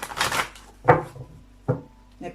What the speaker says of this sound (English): These are the sacred spirit reading cards.